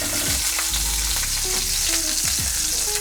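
Steak for a sandwich frying in a pan, a loud continuous sizzle and hiss that stays dense throughout, with faint tonal clinks in the background and no speech.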